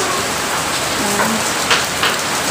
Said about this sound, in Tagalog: Lakas ng ulan sa labas.